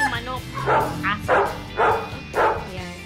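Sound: dog barking

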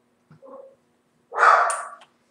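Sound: dog barking

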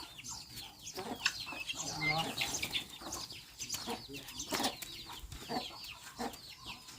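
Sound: chickens clucking

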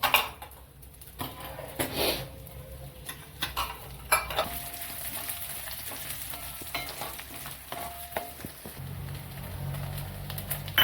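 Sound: fresh grated coconut roasting in oil in a pan

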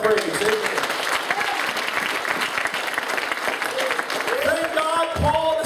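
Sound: church congregation hand clapping in praise

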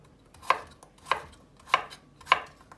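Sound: knife dicing vegetables into cubes

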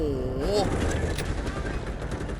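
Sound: M4A1 rifle gunfire in the video game Delta Force

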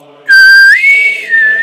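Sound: imitated whistle

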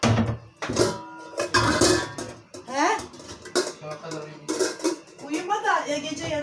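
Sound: pots being put away

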